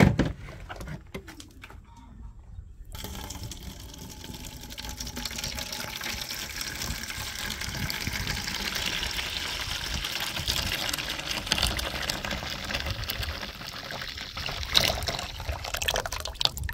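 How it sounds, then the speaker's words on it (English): Cucumber and June plum juice, Jamaican style, pours into a container in a steady, continuous gushing stream that runs for many seconds after a brief quieter start. "I'm just going to go ahead now and just pour this right into my container."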